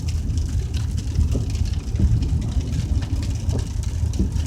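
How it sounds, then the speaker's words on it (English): Rain falls during a drive through rural Pulaski, Virginia on a wet day, a steady hiss of drops over the low rumble of the car's engine and road noise, continuous and fairly loud. "And of course, it's a rainy day."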